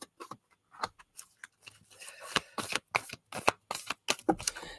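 Cards are shuffled by hand for a tarot-style reading, producing a quick series of close, crisp riffling and slapping flicks in irregular bursts, with no talking.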